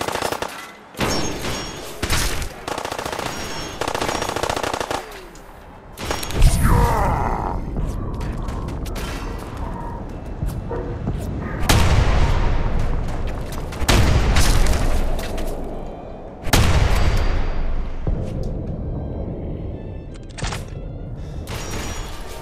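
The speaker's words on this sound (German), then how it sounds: "warum schießen die auf mich?" Enemy gunfire in a Fallout 4 firefight aimed at the player: sharp repeated shots and bursts with heavy booms, loud and close, in uneven clusters with short pauses and occasional grunts between volleys.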